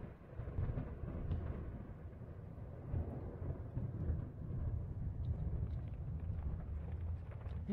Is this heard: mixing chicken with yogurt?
no